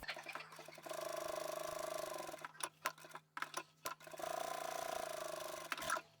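A sewing machine stitches down the edges of a fabric keychain folding card wallet, running in two steady bursts of fast mechanical whirring and ticking, separated by a short pause with a few clicks, close and fairly quiet.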